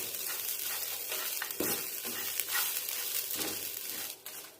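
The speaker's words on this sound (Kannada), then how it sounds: "ಇದನ್ನು ಇವಾಗ 1 ಅಥವಾ 2 ಮಿನಿಟ್ಸ್ ಫ್ರೈ ಮಾಡಿದರೆ ಸಾಕು" Grated coconut and coriander leaves fry in a pan with a steady close sizzle, broken by a few sharp stirring scrapes.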